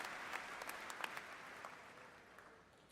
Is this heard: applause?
yes